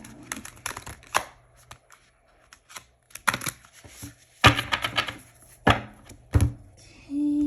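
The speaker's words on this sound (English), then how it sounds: "Last shuffle, and then I'm just gonna split the deck" Playing cards being shuffled and then split into piles, giving a series of sharp riffling bursts and soft slaps with quiet gaps between, close and fairly loud.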